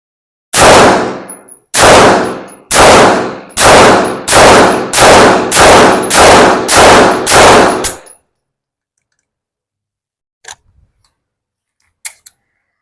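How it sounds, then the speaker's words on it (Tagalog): Nine sharp, loud shots from a Battlearms Xiphos PDW SBR rifle ring out in steady succession with brief gaps, then stop, leaving near silence broken by two faint clicks. "So, firing."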